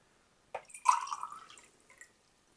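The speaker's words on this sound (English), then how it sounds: "I'll pour it into this cup here so you can see it." Dark, murky water from a gravity water filter system being poured into a cup: a short, close splash and trickle lasting about a second and a half, then fading to a few drips, with no talk.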